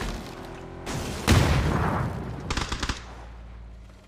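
A sharp, booming sniper rifle shot in PUBG on the Erangel map rings out close and loud, followed by a cluster of quicker, fainter gunfire bursts, with no talking.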